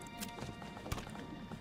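Horse hooves clip-clop from a single merchant's horse at work in the medieval village of Manor Lords, a few soft irregular hoofbeats with one sharper thud over faint game ambience.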